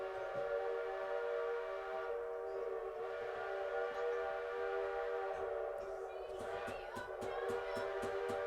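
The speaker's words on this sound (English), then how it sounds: "they're about to blow the whistle here" A steam locomotive on the Virginia & Truckee Railroad at Gold Hill sounds its whistle, a sustained, loud, chord-like tone that holds throughout, with rhythmic chuffing or pounding joining near the end.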